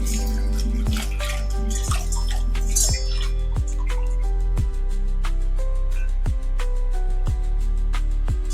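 Garlic cloves rinsed under water in a home kitchen: a steady trickle with sharp drips and taps landing about once a second, close and fairly loud.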